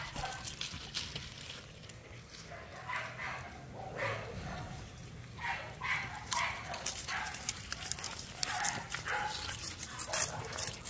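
A black merle dog barks and yips in bursts against a steady noisy background, the barks fairly close and repeated irregularly across the stretch.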